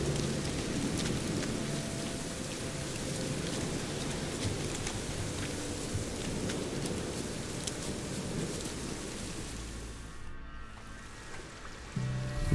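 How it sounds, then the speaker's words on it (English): Steady rain in The Witcher 3, at Crookback Bog, patters and hisses across surfaces, continuous and fairly close, with scattered droplet ticks and a faint low rumble, no voices. "Looks like rain."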